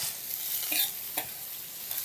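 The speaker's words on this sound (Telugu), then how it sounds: "దాదాపుగా మన పోపు అంతా వేగిపోయింది." A tempering of green chillies and curry leaves sizzles steadily in a pan for coconut rice prasadam, with a few light stirring scrapes over the continuous frying hiss.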